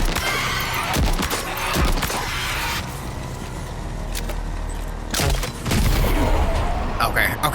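Assault rifle gunfire in the video game Death Stranding 2: repeated bursts of sharp shots among clanking mechanical and creaking game sounds, with someone talking over parts of it.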